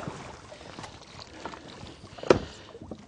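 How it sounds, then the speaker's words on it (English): A trolling motor is lifted up out of the water on a boat mount, giving soft watery sloshing and dripping with one sharper splash and clunk near the end, close by and with no talking. "it's as simple as grabbing that trolling motor, bringing it up"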